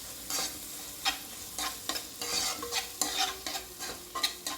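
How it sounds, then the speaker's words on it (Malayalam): Beef being stirred in a hot pan with curry leaves, garam masala and pepper: repeated scraping strokes over a steady sizzle, close and fairly loud, with no talking. "നല്ലതുപോലെ എല്ലായിടത്തും ഒന്ന് നമുക്ക് മിക്സ് ചെയ്തിട്ട് എടുക്കാം"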